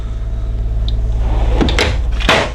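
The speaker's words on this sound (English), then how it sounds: "a little flip-down drawer here." A small flip-down drawer in a 2017 Newmar Ventana 3709 motorhome opens with a couple of soft clunks and a brief rattle near the end, heard close against a steady low engine or generator hum.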